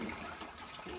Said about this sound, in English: so you have to wash it with cold water